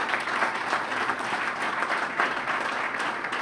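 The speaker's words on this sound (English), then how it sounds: "Let's give him a round of applause for his leadership." Steady applause from a dinner audience honoring mayors in Washington, DC, a dense continuous patter of many hands at even loudness throughout, with no voices over it.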